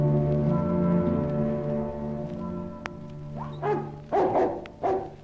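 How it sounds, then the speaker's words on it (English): A dog barks several times near the end, sharp close yips and barks in a quick cluster, after a stretch of sustained tonal background music in an old radio drama. "Good dog, Sherry, good dog."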